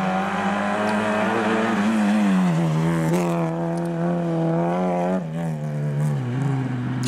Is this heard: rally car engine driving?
yes